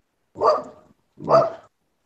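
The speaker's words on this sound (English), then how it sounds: "Who the fuck is barking?" Two distinct dog barks, close and fairly loud, each a short burst with a pause between them, heard alone without any talk.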